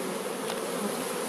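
Honeybees hum in a dense, steady drone from an opened hive full of honey in spring. The buzzing is close and continuous, with no voices over it.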